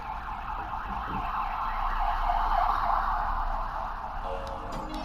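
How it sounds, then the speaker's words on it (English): Emergency sirens wail outdoors, heard from indoors as a steady, wavering tone that swells slightly in the middle and then eases. A couple of faint clicks come near the end, and no one speaks. "And there's sirens outside."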